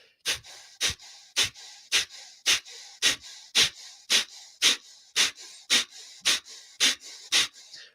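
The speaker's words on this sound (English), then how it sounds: "Sharp exhale, passive and natural inhale." Rhythmic breathwork with sharp, forceful nasal exhales driven from the abdomen, about fifteen evenly spaced bursts, each followed by a quiet passive inhale; close and alone, with no talking.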